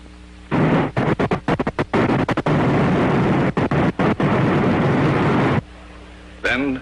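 A V-2 rocket, test round number 59, fires at launch at White Sands: a loud, rough broadband roar that stutters in choppy bursts for about five seconds, then cuts off abruptly.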